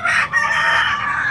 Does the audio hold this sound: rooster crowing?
yes